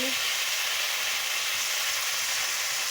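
Mustard paste sautéed with vegetables (cauliflower stems, eggplant) in a pan, giving a loud, steady, close sizzle and hiss that runs unbroken throughout.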